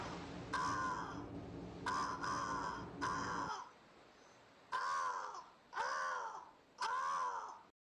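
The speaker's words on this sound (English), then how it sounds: "Blackbirds circled at the azimuth." Blackbirds caw in a string of loud, harsh calls, about six of them in separate bursts over a few seconds. The first three ring out over a low rumbling background and the last three sound in near quiet.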